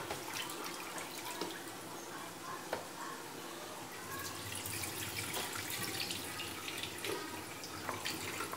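Free-range chicken pieces being rinsed under a running kitchen tap, a steady hiss of flowing water with occasional splashes and drips, fairly close and moderately quiet, growing a little fuller partway through.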